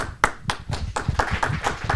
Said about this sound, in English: please, round of applause for Maksims